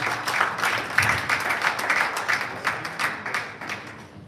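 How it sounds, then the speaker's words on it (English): An audience breaks into steady applause with many hands clapping at once. The clapping is dense and continuous, moderately loud and fairly close, with faint voices beneath it. "please give yourselves a big round of applause."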